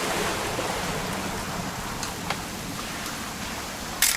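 Steady, soft rain hisses evenly throughout a scene in the video game What Remains of Edith Finch, with a few faint drip-like ticks and a brief louder splash near the end.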